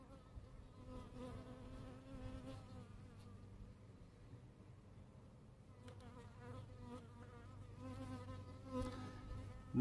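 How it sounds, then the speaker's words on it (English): Faint, continuous buzzing of honeybees flying around nearby, with no voices. "The bees are really out today."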